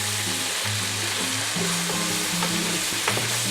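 Onions cooking down in Coca-Cola in a pan hiss and sizzle steadily up close while a utensil keeps stirring them with soft scraping passes. No one speaks.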